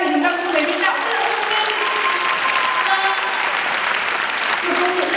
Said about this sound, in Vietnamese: chúng ta hãy cùng vỗ tay vì chúng ta cũng thấy biên đạo